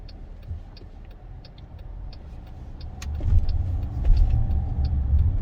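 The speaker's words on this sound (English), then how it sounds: "Oh, this traffic is terrible." Road traffic heard from inside a car: a steady low rumble of engine and road noise that swells louder toward the end, with faint light ticking above it.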